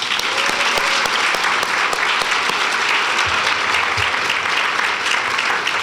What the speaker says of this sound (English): So another big round of applause for Angela.